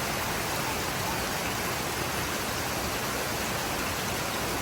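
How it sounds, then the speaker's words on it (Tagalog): Heavy rain pours steadily during a typhoon in the Philippines, a dense, constant hiss with no breaks, close and loud. "Buong araw bumubuhos yung malakas na ulan."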